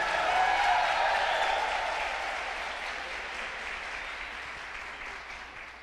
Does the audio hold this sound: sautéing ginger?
no